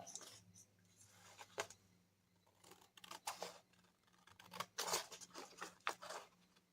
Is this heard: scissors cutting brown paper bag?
yes